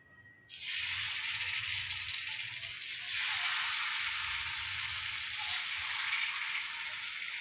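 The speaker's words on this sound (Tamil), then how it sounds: "பக்கத்துலேயே கருணக்கிழங்கு வேக வறுத்துடலாம்" Elephant yam frying in a pan on a home kitchen stove, a loud, steady oil sizzle that starts abruptly after a brief quiet and continues unbroken and close throughout.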